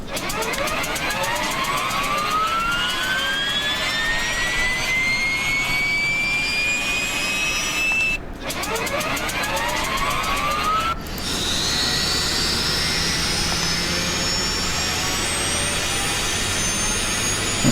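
A BEDE BD-5J microjet in flight-simulator form spooling up from a standing start, a loud continuous turbine whine rising steadily in pitch, briefly cut twice before settling into a higher sustained roar.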